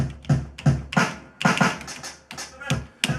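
A drum break sampled on an SP-1200 drum machine plays as a punchy, gritty pattern of kicks, snares and hats, steady rhythm with sharp transients, loud and upfront with no voices.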